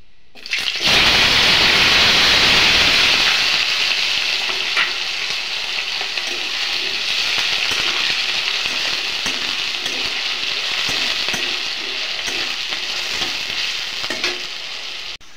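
Small pieces of potato hit hot oil in a pan with a loud burst of sizzling, then keep frying steadily while being stirred, the crackle softening slightly but continuing to the end.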